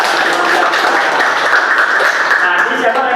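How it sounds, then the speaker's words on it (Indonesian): A classroom of students clapping for a student presenter, steady dense applause lasting a few seconds without pause. "Oke, beri tepuk tangan untuk Salma."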